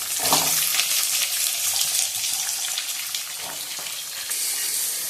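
Onions dropped into a hot pan with green chillies keep up a steady, close hiss and sizzle of frying, with a few brief clatters near the start and middle and no talking.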